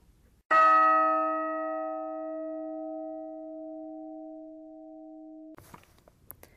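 A single bell strikes once, loud and clear, its tone ringing out and slowly fading for several seconds before faint rustling noises follow.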